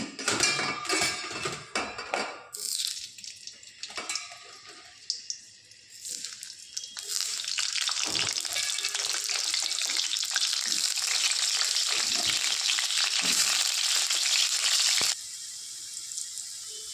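Potatoes fry in hot oil in a wok. Stirring and scraping come first, then a loud, continuous sizzle that holds steady for several seconds before dropping back.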